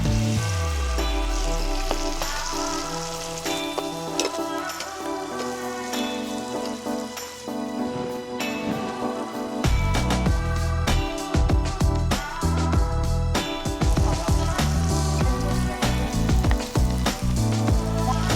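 Tomatoes and garlic sizzling in a pan for an Andhra village-style freshwater fish curry, a dense steady crackle and spit that stays loud, with clattering stirring noises joining partway through.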